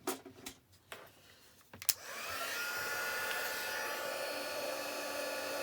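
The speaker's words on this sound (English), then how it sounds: "So I'm just going to bring my heat gun in." A heat gun starts up after a faint click and then holds a steady, loud broadband whoosh of blown air while warming embossing powder for a black and gold stamping project.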